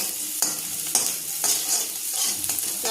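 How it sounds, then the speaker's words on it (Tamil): Chopped big onions sautéing in hot oil in a pan for a tapioca fry, a steady sizzle with a few sharp stirring scrapes at intervals, close and loud with no talking. "கொஞ்சம் நறுக்கிய பெரிய வெங்காயம் சேர்த்து நல்லா சாட்டே பண்ணிக்கலாம்"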